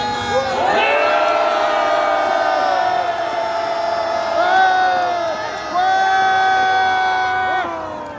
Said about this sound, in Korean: 다 같이 함성하십시오.